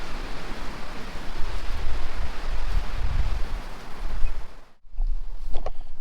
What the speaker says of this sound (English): We'll get some good gusts